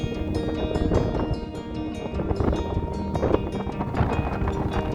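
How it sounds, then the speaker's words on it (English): Strong gusty wind blows on a windy day at an RV boondocking campsite, a loud continuous rushing roar that swells and buffets steadily throughout, with no talking. "is a windy day"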